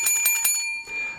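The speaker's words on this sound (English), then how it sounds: "the bell has to ring to remind me to do things" A bell rings several quick times during a radio show, bright metallic dings fading out, then a brief soft rustle follows.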